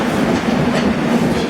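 Dibrugarh Rajdhani Express train running fast on rails, a steady, loud rumble of wheels and carriage with a low droning hum and faint rhythmic clatter, continuous with no talk.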